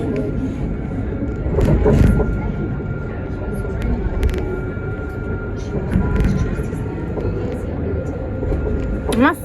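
Nottingham tram 203 passes the Bulwell Forest level crossing with a low rumbling roll and faint wheel squeal, while people talk over it nearby.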